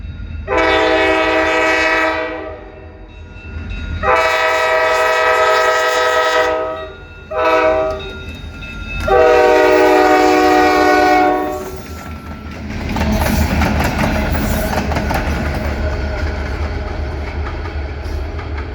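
A Maryland Midland freight train's horn blares in several long blasts, then a heavy rolling rumble with wheel clatter continues as the train passes close by.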